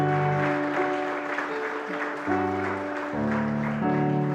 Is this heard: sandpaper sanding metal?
no